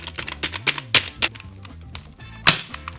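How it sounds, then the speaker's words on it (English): Typing on a cheap $9 budget membrane keyboard with flimsy keycaps, heard as irregular, close clacky keystrokes with a few louder sharp hits, no talking. "So the keyboard does work. You can type, but again, it doesn't sound great at all."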